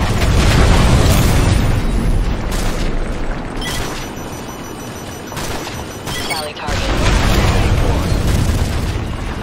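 Tanks explode in Call of Duty: Modern Warfare 3 with loud, repeated heavy booms rolling over dense, continuous battlefield noise and gunfire, the blasts swelling and fading in waves.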